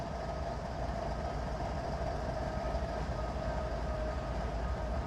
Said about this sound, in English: these two are coming back with that rock train